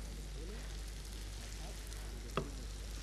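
Green chillies tossed in with sautéing onions in a pan give a steady soft sizzle and faint stirring scrapes throughout, with one brief sharp clack near the end.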